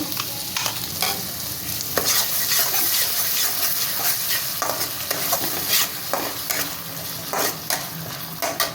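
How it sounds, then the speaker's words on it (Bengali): Mustard and poppy seed paste hits a pan of frying tilapia curry, a loud, dense sizzle with spatula scrapes and stirring knocks running throughout, close up and without talk. "এই যে সর্ষে আর পোস্ত আমি পেস্ট করে রেখেছিলাম এটাকে আমি এখন দিয়ে দেবো এতে"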